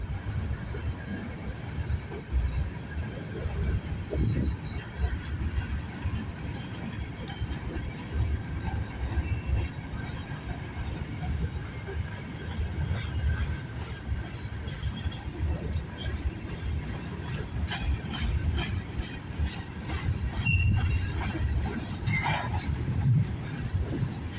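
A CN train rolls past on the Halton subdivision near Snider, Milepost 23, a steady broad rumble of wheels and cars holding close and loud for the whole stretch with faint rail clatter on top.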